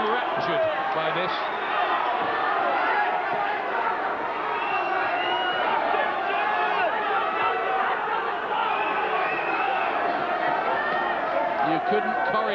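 A boxing arena crowd at a 2002 bout between Johnny Armour and Francis Ampofo keeps up a dense, steady roar of chatter and excitement throughout, with a commentator talking over it.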